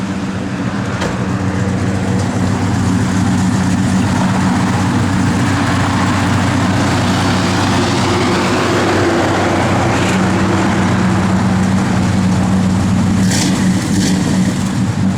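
A 1967 Chevrolet Chevelle SS engine runs steadily at close range, a loud continuous low rumble with a slight rise in intensity midway, and no talking.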